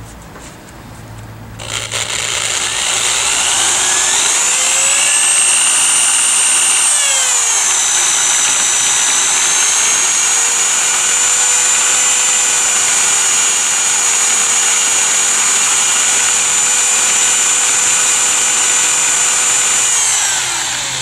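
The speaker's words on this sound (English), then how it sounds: "I'm just going to basically follow the shape of the spindle and grind off any casting marks." An angle grinder grinding casting marks off a brake spindle during a Foxbody 5-lug swap, loud and continuous, its whine shifting in pitch as the load changes, close by and alone.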